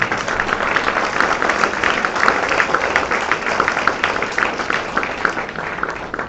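A church congregation at a Sunday service applauds in praise, a dense sustained wash of clapping from many hands filling the room for several seconds.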